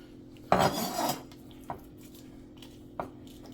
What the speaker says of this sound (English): Got a plate. Put it right over the top here.